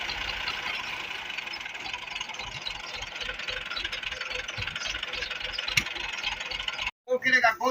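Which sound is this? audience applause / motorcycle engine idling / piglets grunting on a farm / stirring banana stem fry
motorcycle engine idling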